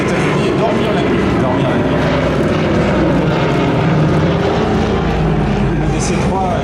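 A Douglas DC-3 propeller airliner at a seaplane gathering in Biscarrosse, its engines giving a loud, steady broadband drone that holds throughout, with talk over it.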